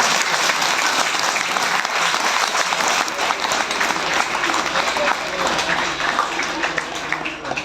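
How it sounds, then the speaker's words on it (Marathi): A crowd at a Dhamma camp applauds the madam with dense, sustained clapping that stays loud and steady throughout before easing slightly at the end. "मॅडम साठी टाळ्या झाल्या पाहिजे"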